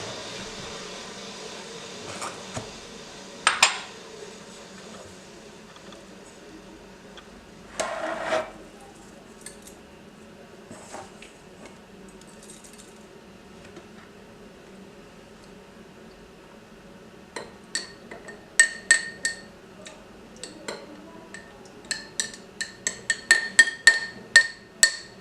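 A metal spoon clinks against an object sitting in hot water, scattered sharp taps early on, then a quiet stretch, then a quickening cluster of bright clinks and rattles toward the end, close and fairly faint.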